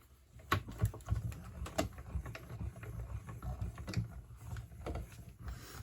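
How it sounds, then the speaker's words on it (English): A die-cutting machine working card stock for a handmade card, a soft run of rhythmic clicks and mechanical taps close by, with no talk. "And we'll die cut those."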